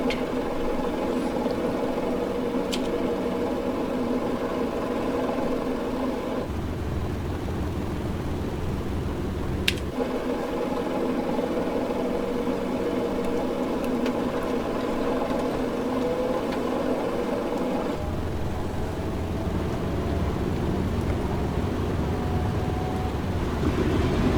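Engine number 2 of a Boeing 307 piston airliner starts in Microsoft Flight Simulator 2020, a steady engine drone and rumble holding throughout with a brief click partway and a shifting tone later, no talk.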